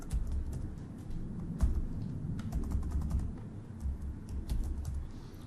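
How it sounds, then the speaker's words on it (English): Close, quick clicking of typing on a computer keyboard, a run of irregular keystrokes with a few louder presses, alone without talk. "I press enter on the keyboard"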